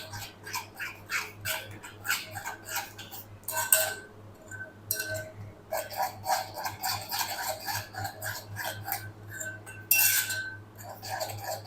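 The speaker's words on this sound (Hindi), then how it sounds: "इन तमाम चीज़ों को अच्छी तरह मिक्स कर लेंगे" Dry spice masala for chicken broast, with baking powder and salt, mixed in a bowl, making repeated close scraping and clinking of a spoon against the bowl in quick, irregular strokes over a low steady hum.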